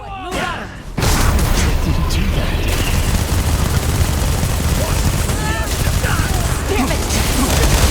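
Dense, loud gunfire from the Starfield mission The Empty Nest rattles on almost without pause after a brief quieter opening, with voices calling out amid the shooting.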